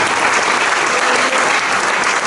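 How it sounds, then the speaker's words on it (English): A church congregation claps hands in worship at a Thanksgiving anniversary service, a dense, loud, continuous wash of applause with no pauses. "Clap your hands and worship our God this morning."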